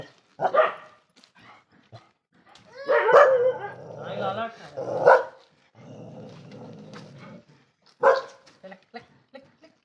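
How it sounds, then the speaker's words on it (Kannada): A dog barks repeatedly in short bursts, close by, with people talking over and between the barks. "ನಾಯಿ ಕುರೆತೊಂದುಲ್ಲ"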